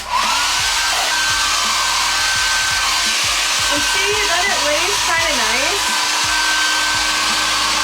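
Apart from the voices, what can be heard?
hair dryer blowing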